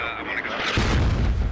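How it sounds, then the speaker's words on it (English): Smoke mortar rounds land in the military shooter game Squad, a single deep, heavy boom arriving midway and rumbling on under a commentator's voice. "Smoke mortars coming in"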